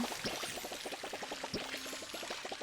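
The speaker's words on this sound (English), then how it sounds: "I'm just going to water these plants." Plants being watered in the Palia farming video game make a soft, steady pouring and splashing of water, quiet and continuous with rapid bubbling pulses.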